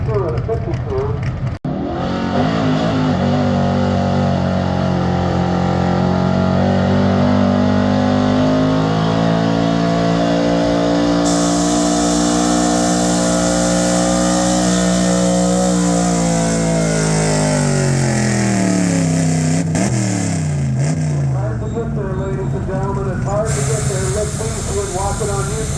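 A pulling tractor engine roars through a hook at a Wyoming, Iowa pulling event, its pitch climbing and holding in a sustained loud rev with hissing exhaust, then dipping and recovering near the end; an announcer's voice runs underneath.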